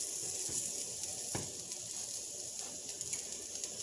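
Yautía and salt cod croquettes sizzling in hot oil as they turn golden, a steady close crackling fry with a brief sharp tap partway through, no talking.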